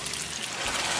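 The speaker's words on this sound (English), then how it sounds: "we're gonna add the broth a little bit at a time until the rice is tender" Broth poured into a pan of arborio rice for a creamy coconut risotto, a steady close trickling stream that swells slightly toward the end, with no voices.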